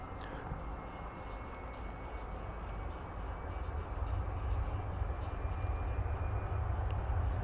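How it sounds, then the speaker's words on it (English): A CRJ regional jet taxis at Dallas Fort Worth Airport, a faint, distant steady engine rumble and whine that swells slightly louder over several seconds amid outdoor airport background noise. "Where is the CRJ taxiing going to?"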